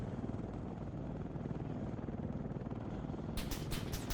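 A military helicopter in Arma 3 drones steadily with a dense, loud rotor and engine rumble that continues without a break, joined near the end by a few sharp, rapid clicks.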